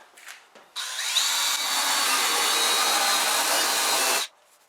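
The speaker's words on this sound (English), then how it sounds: "remove that rust. Get it down to bare metal. You can't leave any rust or it's just going to come back. So I use a wire brush." Wire brush spun by a power drill scouring rust off metal down to bare surface, a loud, close, steady abrasive whirring grind lasting about three and a half seconds after a few faint clicks, then stopping abruptly.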